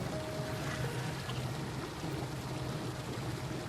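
Water pours from a tap in the video game ARK, a steady, quiet splashing stream that runs unbroken throughout.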